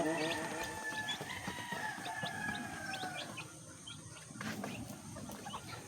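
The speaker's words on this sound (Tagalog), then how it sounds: "Kumakain na ang ating mga manok na sisiw." Chickens and young chicks peck at feed and cluck and peep almost continuously, close up, with a rooster-like call rising among the flock.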